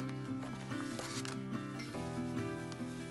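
A zipper on a ChiaoGoo knitting needle case is pulled open in a quiet room, its rapid ratcheting teeth heard in several short close strokes across about three seconds.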